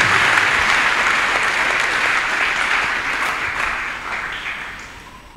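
A church congregation applauds steadily, a dense wash of clapping that holds for several seconds before tapering off slightly.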